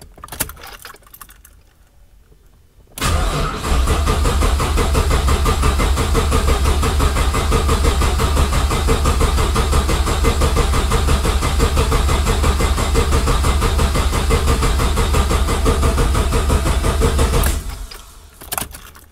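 Engine of a vehicle fitted with a TSP DoD delete kit cranking steadily without starting, its fuel pump disconnected, a loud continuous whirring churn lasting about fifteen seconds after a quiet start, then cutting off, with no talk.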